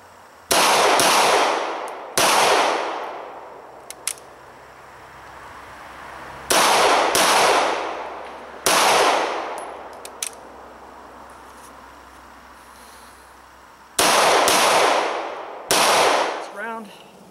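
Six sharp 9mm gunshots from a SIG P226 pistol fired at a range, coming in a pair, then another pair, then another pair, loud and close, each with a brief decaying echo and quiet gaps between.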